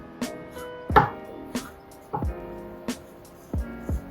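Kitchen knife cutting figs on a board, about seven distinct sharp chops at an uneven pace, close and clear with quiet gaps between strokes.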